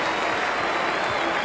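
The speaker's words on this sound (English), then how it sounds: "Martin Crowe getting a big hand from the Basin Reserve crowd" Cricket crowd at the Basin Reserve applauding during a World Cup match, a dense sustained wash of clapping heard from a distance, steady and loud throughout.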